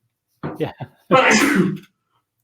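A person sneezes once, a short build-up of sharp breaths followed by a loud, drawn-out burst, close to the microphone; a brief spoken word sits in the same moment.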